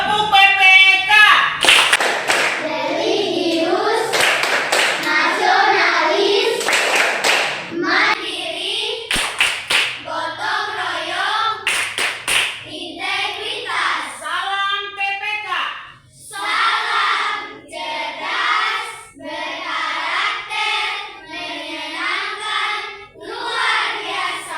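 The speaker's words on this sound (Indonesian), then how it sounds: "Kita ice breaking bersama tepuk PPK." A group performs the Tepuk PPK clap routine as a classroom ice-breaker, with loud rhythmic bursts of hand claps and chanting voices running through it, with the claps easing off as singing-like speech continues.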